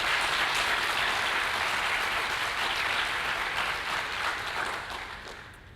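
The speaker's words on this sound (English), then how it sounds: "let's give her a round of applause" Sustained audience applause at a 2021 graduate school commencement awards ceremony, dense steady clapping that fills the room and slowly fades toward the end, with no talking over it.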